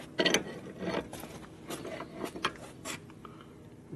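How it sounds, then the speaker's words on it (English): A wrench turns a mechanism, giving a few sharp ratcheting clicks and knocks spaced irregularly over a low background hum, close by and moderately loud. "Give me a wrench to turn that with"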